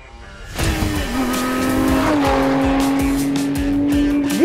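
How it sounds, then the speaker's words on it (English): A Lotus Emira prototype sports car on a race track roars in close and loud, its engine note holding steady and climbing, with a brief tire squeal as it corners. "Emira on track!"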